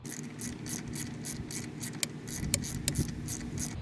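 Ratchet wrench loosening 10mm nuts on the throttle body of a 2010-2015 fifth-generation Camaro SS, a rapid steady clicking run with a few sharper metallic ticks over a constant noisy hum.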